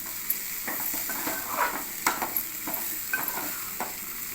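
A spoon scrapes and stirs boiled moong and peanuts in a pan, giving a soft, regular scraping rhythm over a light background sizzle, close and moderately loud.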